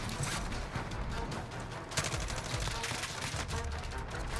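Holger-26 machine gun in Modern Warfare firing in long, rapid sustained bursts, loud and close, with dense clattering shots and only a brief pause near the middle.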